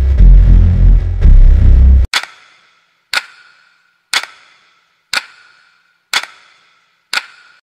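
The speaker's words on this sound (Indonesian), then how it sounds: "dan suara jarum jam berdetak pelan" A clock hand ticks slowly in a hospital at night: after a couple of seconds of loud low rumble, six crisp, evenly spaced ticks ring out about one per second in near silence.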